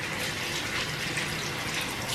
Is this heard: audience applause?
no